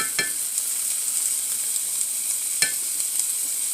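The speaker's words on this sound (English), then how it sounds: "So I'm going to put about a teaspoon of minced garlic." About a teaspoon of minced garlic sizzles in a hot pan, a continuous close hiss with two sharp knocks of a utensil against the pan.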